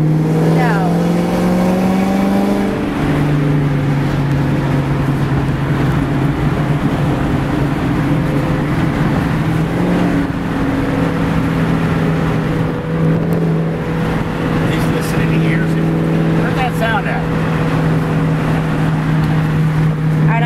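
A Shelby Cobra's engine drones loud and close as it races a supercharged truck, its pitch climbing and shifting through gears in a sustained roar, with a voice talking over the noise.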